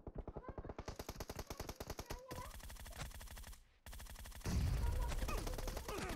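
Automatic gunfire in the mobile battle royale game PUBG Mobile, a rapid regular burst of shots, then sustained firing with a brief gap and a louder, denser stretch of shooting toward the end.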